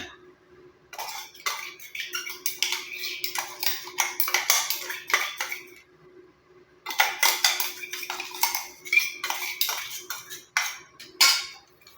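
Ground curry leaf powder, for a homemade hair dye, gets scraped and tipped onto a plate, bursts of metal spoon clinks and scraping against dishware, paused briefly in the middle, then resuming.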